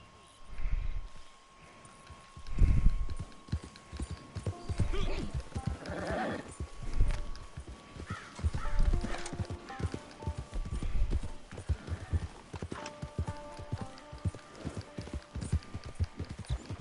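Horse hooves clip-clop steadily in Red Dead Redemption 2, a close rhythmic trot with an occasional whinny, while a voice speaks at times.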